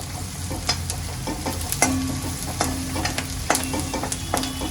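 Onions fry with asafoetida for a cluster bean curry, giving a steady close sizzle while a spoon scrapes and taps the pan in a regular rhythm, with no talking.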